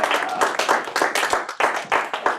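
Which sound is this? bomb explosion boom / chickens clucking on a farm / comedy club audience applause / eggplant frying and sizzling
comedy club audience applause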